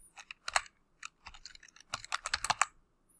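Computer keys clatter in short, uneven bursts, with a quick cluster of keystrokes near the start and a denser run toward the end, close up and fairly quiet.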